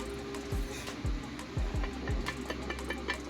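A camshaft spins freely by hand in a welded Ford V10 4V cylinder head, giving a few faint, soft low knocks and rolling ticks at close range in a quiet workshop.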